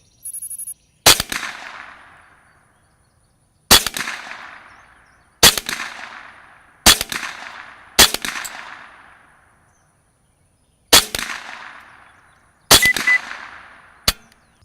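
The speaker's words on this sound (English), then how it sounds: "we're gonna get a few rounds down range" Rifle shots are fired downrange at orange bullseye targets during a scope sight-in at a shooting range. About eight sharp, loud reports come at uneven intervals, each followed by a short echoing decay, with quiet gaps between them.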